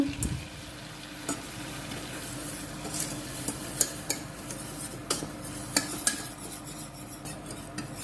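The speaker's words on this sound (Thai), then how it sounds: "ใส่แป้งลงไปคั่วค่ะ คั่วให้เขา เป็นสีน้ำตาลนิดนึง" Flour is stirred and roasted in melted butter in a pot on the stove, a soft continuous sizzle broken by repeated scraping and clinks of a utensil against the metal, with no voices.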